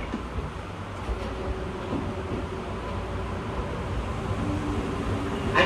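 An Izukyu chartered electric train running toward Izu-Kogen station, heard from on board as a steady rumbling rail roar with faint tonal whine, continuous and moderately loud, with no talking.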